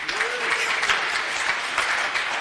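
A crowd at a political rally in Kenya breaks into sustained applause, dense rapid clapping heard close and loud throughout without pause.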